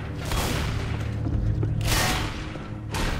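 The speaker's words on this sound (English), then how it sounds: "I got a pipe bomb." A pipe bomb goes off in the zombie shooter Left 4 Dead 2, a loud, rolling, rumbling boom mixed with crackling gunfire, with further blasts swelling at intervals.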